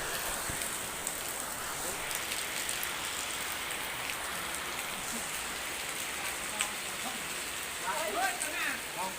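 Steady rain falls at a construction site during floor-pouring work, a dense even hiss of drops on surfaces throughout, with faint voices surfacing near the end.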